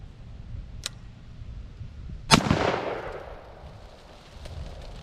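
Shots from a 300 Blackout rifle with a 16-inch barrel: a small sharp crack, then a much louder report that rings out and decays, against quiet outdoor background.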